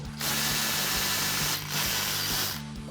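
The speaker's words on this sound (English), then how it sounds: "We're going to use our 10mm socket on our ratchet to get both of these off" A ratchet with a 10mm socket turns screws on a Jeep Wrangler in rapid clicking bursts, two runs of fast pawl ticks separated by a short pause, close and loud.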